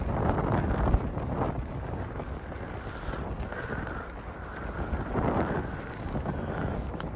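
Steady cold wind in Japan roars and buffets the microphone, with broad rushing noise and occasional stronger gusts, no voices.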